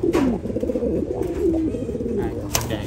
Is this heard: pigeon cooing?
yes